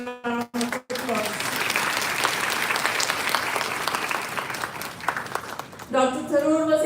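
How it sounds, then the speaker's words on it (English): Sustained applause from an audience at a university event, steady and dense for several seconds, preceded by a brief spoken fragment and followed by a voice resuming at the end. "that surely deserves a round of applause"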